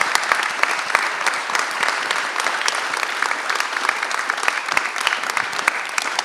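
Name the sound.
audience applause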